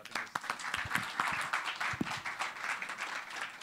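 Applause after a demo at an AI in education event, a crowd clapping in a dense, steady patter, fairly quiet and distant.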